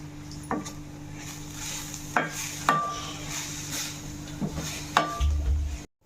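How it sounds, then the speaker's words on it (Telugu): Freshly grated coconut roasts in hot ghee, a soft continuous sizzle under repeated clinks and scrapes of a spoon against the pan, several sharp taps spaced through, nothing spoken. "నెయ్యి బాగా హీట్ అయిన తర్వాత మనం తురిమి పెట్టుకున్న ఈ కొబ్బరి తురుము వేసి పచ్చివాసన పోయేంత వరకు వేపుకోవాలి"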